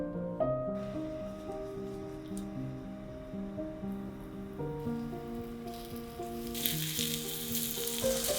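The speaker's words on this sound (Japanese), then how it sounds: "片栗粉をまぶして焼きます。" Bite-size pieces of chicken breast seasoned with salt and pepper and dusted in potato starch fry in a thin film of oil, a steady close sizzle running under soft background music.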